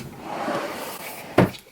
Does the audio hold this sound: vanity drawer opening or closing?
yes